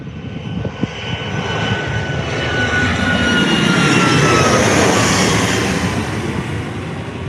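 Airliner departing Lanzarote Airport, a broad, loud jet engine roar that swells steadily as it passes at a moderate distance, with a whining tone over the rumble and no talking.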